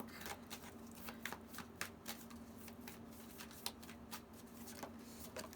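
A Moonology Oracle card deck is shuffled, giving a faint, steady riffle of rapid papery flicks and soft slaps with no talk.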